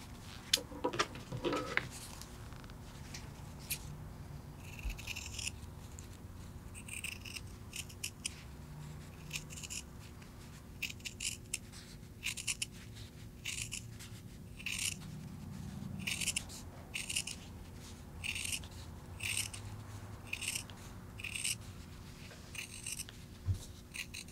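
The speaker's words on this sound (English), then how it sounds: "trim your seam allowance down to about 1/8 of an inch" Scissors snip repeatedly through fabric, trimming a seam allowance down on a piped Peter Pan collar; quick, soft, close-up cuts in irregular bursts over a faint room hum, with no talking.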